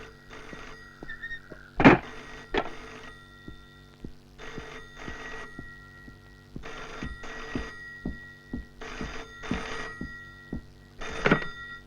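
A telephone rings in repeated short bursts with brief pauses between them, close and clear, in an indoor scene from a Telugu film.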